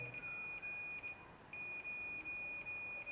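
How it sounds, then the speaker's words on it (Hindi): A multimeter's continuity beeper, testing across a motor coil, sounds a steady high electronic tone broken by brief regular dips, clear and alone over a faint background hiss. "मल्टीमीटर से एक बीप का साउंड आ रहा है।"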